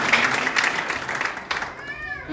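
An audience at a wedding blessing ceremony applauds in a short, dense burst of clapping that fades away after a second or two, with a voice heard alongside.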